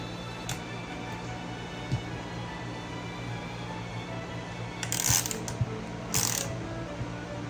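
A 3/4 wrench tightens a nut on aircraft cabane gear, with a couple of quick ratcheting metallic clicks against a steady background hum.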